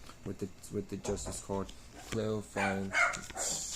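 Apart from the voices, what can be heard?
dogs barking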